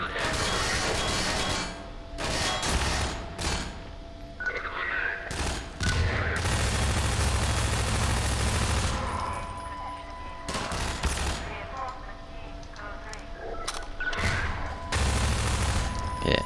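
Automated turret gunfire in Half-Life 2, loud rapid bursts of machine-gun fire repeating across the stretch with mechanical clanks and brief gaps between volleys.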